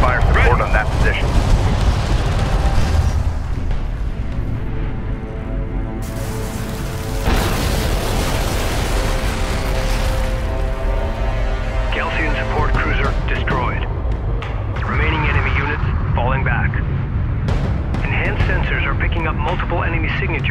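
Heavy artillery fire and explosions rumble nearly nonstop in the desert warfare strategy game Homeworld: Deserts of Kharak, with deep booms layered over a droning engine hum and radio-style voices breaking in now and then.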